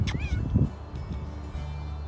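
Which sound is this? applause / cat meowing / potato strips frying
cat meowing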